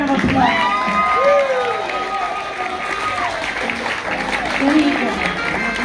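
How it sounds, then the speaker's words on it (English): An audience applauds at an 80th birthday party in the Flamingo Room, a steady crowd clapping with some cheering that runs for several seconds beneath a singer and music. "Let's give Chad a big round of applause."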